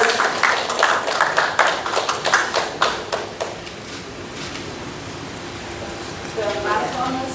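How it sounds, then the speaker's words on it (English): An audience at a marathon press meet bursts into applause, a dense burst of clapping that thins and fades after a few seconds, leaving room noise and a brief voice near the end. "A big round of applause."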